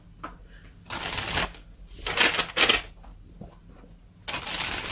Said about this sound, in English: let's get a few tarot cards and see what this is about.